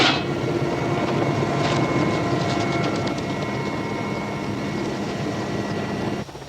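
Steady, loud mechanical droning with a rattling, whirring texture, constant throughout and easing slightly at the very end, with no voices.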